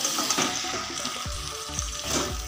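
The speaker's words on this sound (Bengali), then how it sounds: "মাংসটা ভালো করে কষিয়ে নিচ্ছি" Washed mutton sizzles and sputters with spices in a pan over a medium flame as it is stirred and sautéed, with soft crackling and occasional scraping knocks heard close up.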